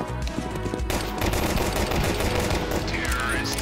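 Rapid gunfire in a Counter-Strike 2 match; a loud, dense stream of shots bursting in suddenly after a brief lull and holding up close for several seconds, with a few quieter game effects mixed in.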